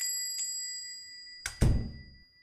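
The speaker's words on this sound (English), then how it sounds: "and a bell jingled somewhere" A small bell on a shop door jingles as the door is pushed open on a Christmas-lit day, a brief bright burst followed by a louder thump and rustle over a faint steady hum.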